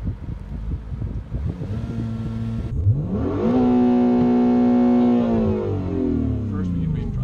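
A 2017 Acura NSX launches under launch control, its engine rising from a rumble into a loud, steady high rev that holds for a couple of seconds and then eases down as the car pulls away, heard close and alone.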